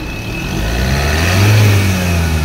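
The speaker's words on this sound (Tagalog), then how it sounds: "At itry lang muna nating i-rev ang makina." A Ford Ranger 2.2 diesel engine with a low-power fault revs up close, its low drone swelling in pitch and loudness before easing back, with no voices.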